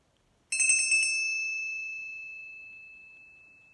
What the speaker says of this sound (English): please send down this with this ringing of the bell